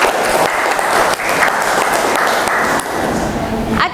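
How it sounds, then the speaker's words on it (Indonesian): Sustained applause from a classroom audience honoring quiz winners at a university teaching session, steady and dense clapping filling the room, with murmured voices underneath and a brief dip near the end. "Beri aplaus untuk teman kita."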